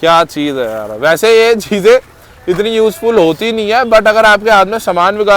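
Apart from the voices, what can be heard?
No everyday noise stands out behind the speech.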